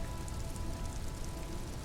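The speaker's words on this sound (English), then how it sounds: "Oh, it's raining." Rain falls steadily in the video game Disco Elysium, a dense, even hiss of drops spread wide and loud that continues unbroken without any voices.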